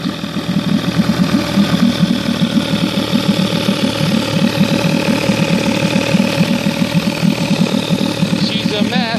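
A 1967 Evinrude 18 hp outboard motor with rusty spark plugs, unrestored, idles with a fast, even chugging putter and a steady mechanical hum, loud and close throughout.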